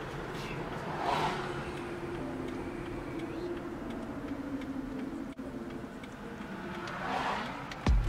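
A car cruises down a road, heard from inside as a steady, muffled rumble of engine and road noise. Two louder whooshes from passing traffic swell and fade along the way.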